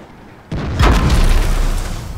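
A tank cannon firing in World of Tanks, a sudden heavy boom followed by a loud, rumbling blast that sustains and slowly fades, with no talk over it.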